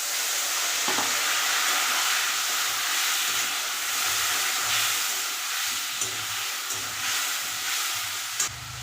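Spices fry with kohlrabi and potato in a pan, giving a loud, steady sizzle and hiss as water goes in, with occasional faint stirring scrapes and no talking.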